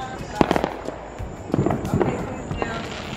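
Distant Fourth of July fireworks go off in scattered pops and thumps, several bursts in irregular succession, with voices talking over them.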